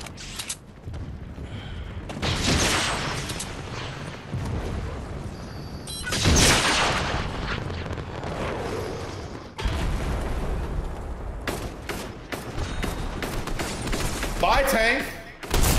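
In Fortnite, gunfire and explosions destroy a tank. Loud blasts and rattling bursts arrive in waves, with a big impact near the middle, over a constant busy game mix.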